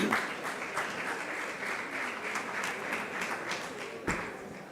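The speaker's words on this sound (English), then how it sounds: "Please clap for him." Audience applause at a national conference on non-oil export, a steady sustained round of many hands clapping from a seated crowd, fairly close and even throughout, fading slightly near the end.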